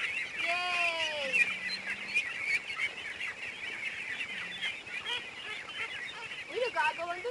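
Young, thin poultry crowd and scramble for scattered feed, clucking and squawking in busy overlapping calls nearby, while a person speaks briefly.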